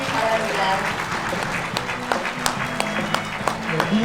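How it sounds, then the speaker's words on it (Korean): Scattered applause from an awards ceremony crowd patters along, sparse and moderately close, while a voice speaks over it. "여러분 큰 박수로 축하해 주시기"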